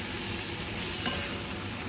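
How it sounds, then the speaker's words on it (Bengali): Chicken and capsicum stirred and frying in a pan for a spicy Bangladeshi-style fusilli pasta, giving a steady, close sizzle with faint scraping from stirring throughout, no voices. "চিকেন আর ক্যাপসিকাম দুটোকে একটু নেড়ে চেড়ে ভেজে নিব"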